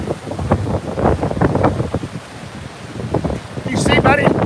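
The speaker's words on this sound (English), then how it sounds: "Here comes the 80, 75, 80 mile an hour winds" Strong hurricane-force wind, gusting around 75 to 80 mph, roars into the microphone on an Atlantic beach in Florida during Hurricane Nicole, with surf behind it and people talking throughout.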